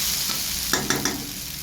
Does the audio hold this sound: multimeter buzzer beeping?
no